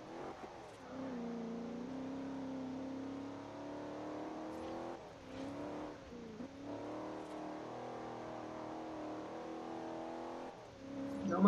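A Dodge Charger R/T engine drones and revs in the Forza Horizon racing game, a steady mid-level whir that dips and climbs through gear changes, with no voices heard.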